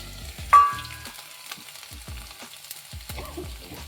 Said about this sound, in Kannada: ಗೋಲ್ಡನ್ ಬ್ರೌನ್ ಬರೋವರೆಗೂ ಫ್ರೈ ಮಾಡ್ಕೊಳ್ಳಿ ಬೆಳ್ಳುಳ್ಳಿನ